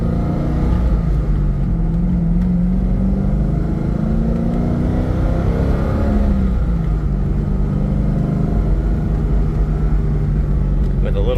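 Modified 2004 Chevrolet Corvette Z06 hardtop with a roll cage, its engine droning loudly and steadily while driving, heard from inside the car over about eleven seconds with a brief rise around the middle.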